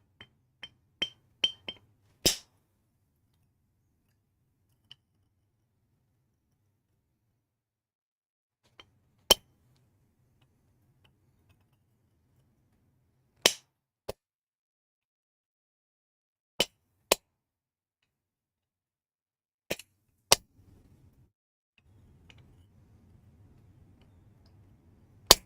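A hammer strikes a small-bladed chisel in a smithy with sharp, isolated metallic clinks spaced several seconds apart in a quiet room, a quick burst of taps at the start.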